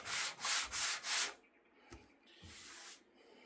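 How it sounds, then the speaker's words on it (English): Body filler on a 1988 Yugo GVX is sanded by hand with a foam sanding block and pad, giving close, rhythmic back-and-forth rasping strokes, three quick passes, a pause, then a longer stroke. "I'm using just a foam sanding block with a pad on it"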